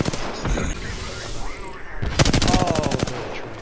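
Rapid automatic gunfire in a video game erupts partway through as a fast, loud burst of shots, following a stretch of rumbling game noise with some voices in the background.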